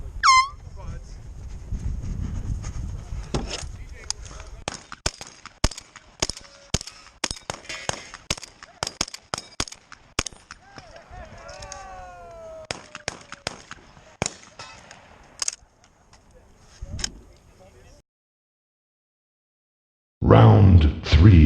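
Shotgun shots ring out at an outdoor shotgun competition, the 2019 Saginaw Valley Shotgun Showdown, as a long series of sharp blasts in irregular rapid bursts, loud and close, with a voice speaking at the start.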